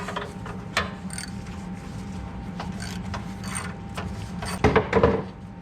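A ratchet wrench turns in reverse to loosen a spark plug on a John Deere Gator 4x2 utility vehicle, giving soft rapid clicking over steady background hum, with a louder burst of ratcheting near the end.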